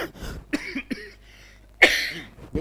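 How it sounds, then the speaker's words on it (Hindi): A man coughs several times in short, harsh bursts, ending with one louder cough, close to the listener with no talking. "खांसी से परेशान हूँ"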